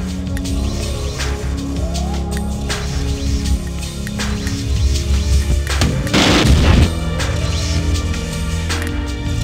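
Battle noise in the real-time strategy game Dawn of the Tiberium Age on a downtown skirmish map: scattered gunshots and deep booms recur loudly, with a heavier explosive burst in the middle.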